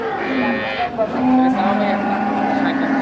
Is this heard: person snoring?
no